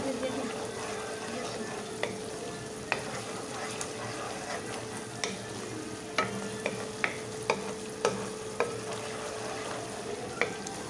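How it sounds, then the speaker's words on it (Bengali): Onion paste frying in a pan for a garlic prawn dish, giving a soft steady sizzle with scattered light taps and scrapes of a stirring utensil, quiet and close. "পেঁয়াজের পেস্টটা লালচে হওয়া আগ পর্যন্ত ভেজে নিচ্ছি।"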